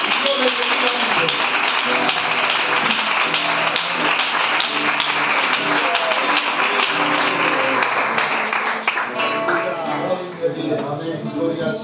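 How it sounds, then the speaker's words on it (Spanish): A church congregation claps loudly and steadily in praise, a dense wash of hands with music-like tones underneath, thinning slightly near the end. "Fuertes aplausos para el Señor"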